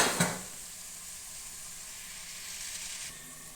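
A sharp burst of sizzling as spices hit hot oil for tempering, settling into a steady hiss that continues near and fairly loud.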